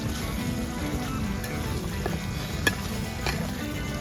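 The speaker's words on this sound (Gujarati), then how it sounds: "આ મસાલાને બધાને આપણે હલાવી નાખીશું।" Steady frying sizzle and the scrape of stirring as spices are tossed with stuffed chillies for a chilli curry, with a few sharp clinks of a spoon against the pan.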